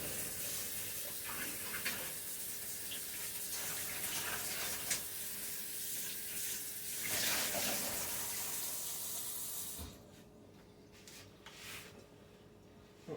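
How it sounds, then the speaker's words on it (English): Water runs steadily from a kitchen tap while a bowl is rinsed out, a continuous hissing splash lasting about ten seconds before it cuts off and a few quieter drips and clinks follow. "Let me see about pouring this off. I'll rinse this out"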